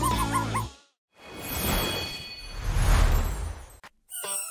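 A dog gives short whimpering yips and barks at close range, alone at first, then a stretch of rustling and scuffling noise, a brief gap, and a final burst of sharper sounds.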